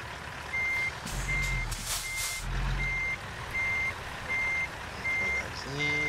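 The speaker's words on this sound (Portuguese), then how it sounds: "Começar a manobrar pra parar o caminhão aqui." Truck reversing alarm in American Truck Simulator while the rig maneuvers to park, a steady loud series of evenly spaced beeps over engine rumble, with a brief hiss of air brakes partway through.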